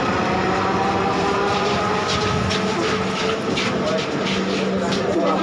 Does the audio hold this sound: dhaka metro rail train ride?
yes